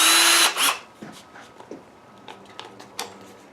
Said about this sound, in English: I like my Ryobi cordless drill.